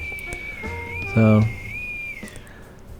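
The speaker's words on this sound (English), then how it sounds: "And I can get some whistling sound from it" A homemade whistle gives a thin, sustained high tone that wavers slightly in pitch, continuing while someone briefly speaks over it.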